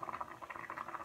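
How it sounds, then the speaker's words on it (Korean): Garlic frying in olive oil while a vegetable spaghetti with tomato sauce is being made: a faint, steady, fine sizzle with soft crackling pops, close and without talk. "올리브유를 두르고 일단은 마늘을 넣어주고"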